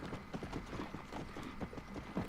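Rhythmic clip-clop of horse hooves while riding in the video game Red Dead Redemption, a steady galloping beat at moderate level with faint mechanical clinks and no talk.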